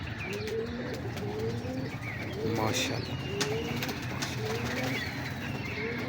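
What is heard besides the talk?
pigeons cooing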